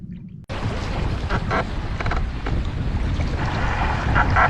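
Fishing boat heading in across rough, windy water, a loud steady rush of engine and wind noise with waves slapping the hull, running continuously after a brief quiet start.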